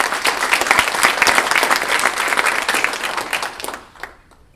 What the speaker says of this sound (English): So let's give Leslie a round of applause.